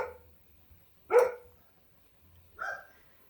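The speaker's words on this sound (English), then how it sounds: "my doggies are barking, like always" Dogs barking indoors in the background, two separate barks about a second and a half apart, moderately distant with quiet room tone between them.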